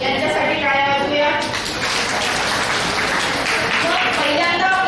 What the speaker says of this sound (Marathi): यांच्यासाठी टाळ्या वाजवूया.